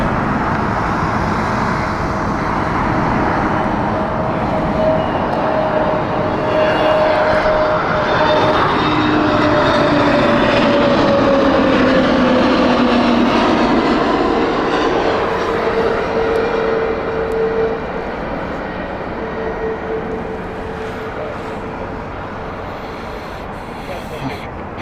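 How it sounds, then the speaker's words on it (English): A British Airways airliner inbound from Paris lands at Heathrow, a loud, steady jet roar with a whining engine tone that swells, shifts in pitch as it passes close by, then slowly fades, with faint voices underneath. "we have next the Paris flight inbound from British Airways"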